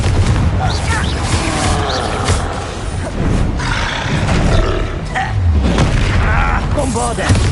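Confringo fire spell blasts from Hogwarts Legacy combat, loud bursts and booming impacts repeating amid a dense, continuous barrage of other spell effects and grunts, with voices calling out during the fight.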